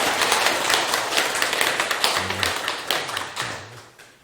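A lecture audience claps together in a dense burst of applause that thins into scattered claps and fades out toward the end.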